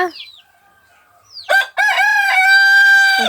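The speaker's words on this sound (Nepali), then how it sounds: "यही बेला भाले पनि कराउँछ, उता पनि करायो" A rooster crows loudly and close by in a Nepali village, one long full cock-a-doodle-doo call preceded by faint distant bird sounds.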